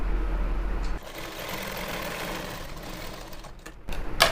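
A tailoring sewing machine stitches a gathered pant, its motor buzzing close and loud in one sustained run after a brief start, with a short break and restart near the end.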